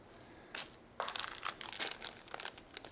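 Blue plastic bag holding a micro USB cable crinkles and rustles close by during a Samsung Moment phone unboxing, with irregular bursts of crackling handling noise, quiet and without speech.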